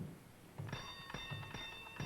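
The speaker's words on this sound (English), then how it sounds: "You ring the bell." A bell rings several times in a B-movie zombie film, short bright metallic strikes in a quick irregular rhythm over a quiet background.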